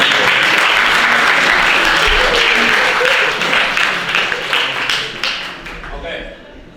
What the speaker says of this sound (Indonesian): Tepuk tangan dulu kepada kamu.